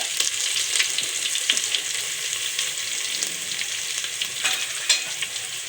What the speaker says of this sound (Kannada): ಇದು ಚಟ ಚಟ ಅಂತ ಇದೆ ಇವಾಗ ಇದಕ್ಕೆ ನಾನು ಬೆಳ್ಳುಳ್ಳಿ ಹಾಕೊಂಡಿದ್ದೀನಿ